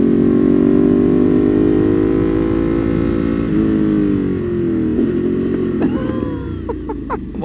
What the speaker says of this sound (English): this exhaust, man, it's so ridiculous